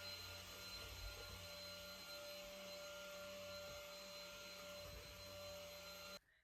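A vacuum cleaner runs steadily over carpet while a kids' loft reading area is cleared out, a continuous loud motor whine with a low droning hum that cuts off abruptly near the end.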